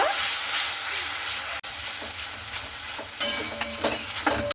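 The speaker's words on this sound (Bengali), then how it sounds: "অল্প করে জলটা দিয়ে ভালো মতো করে মশলাটাকে একটু কষিয়ে নেব" Spice paste with Kashmiri chilli powder and a splash of water frying in a pan for fish curry, a steady close hiss and sizzle with scraping stirs, briefly cut off midway.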